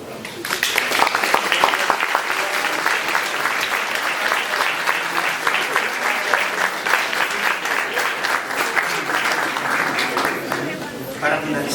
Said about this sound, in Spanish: Démosles un caluroso aplauso.